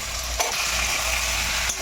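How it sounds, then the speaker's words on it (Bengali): An onion, tomato and spice masala with salt and turmeric is stirred and fried in a pan: a continuous close sizzle with a couple of sharp spatula scrapes against the pan. "খুব ভালো করে মশলাটাকে কষিয়ে নেব"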